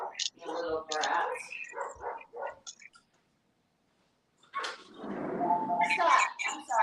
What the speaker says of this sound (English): You don't get to bark at people.